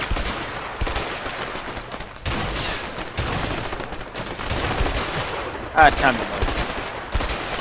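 Shotgun blasts in A Way Out ring out as heavy, separated booms during a firefight, with other gunfire crackling around them and someone speaking briefly over the action.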